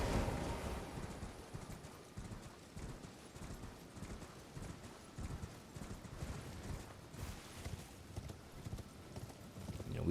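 A horse gallops in the Elden Ring video game, its hooves drumming in a quick, even clip-clop rhythm that stays faint and steady under light wind noise the whole time.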